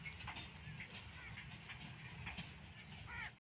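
A locomotive hauls the Daudkhel coal train in Pakistan with a bicycle loaded on the engine, a low, steady rumble of rolling wagons heard from a distance with faint clatter, fading out abruptly at the end.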